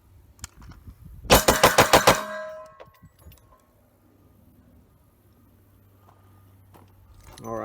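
Rapid string of about six sharp gunshots from a Sons of Liberty Gun Works NOX rifle at an outdoor range, loud and close, followed by quiet with faint handling sounds.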